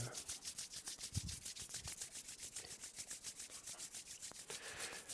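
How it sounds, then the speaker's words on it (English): A pair of palms rubbing briskly together during a yoga session, giving a steady, rhythmic swishing friction that repeats evenly and sounds close and alone. "Rub the palms together."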